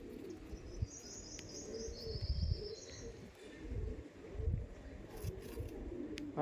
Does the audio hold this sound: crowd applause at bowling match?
no